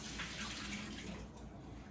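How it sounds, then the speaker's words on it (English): Water pours out of a container in a kitchen while a hot milk cake is being made, a steady close gush with no talk over it. "We dump out that water."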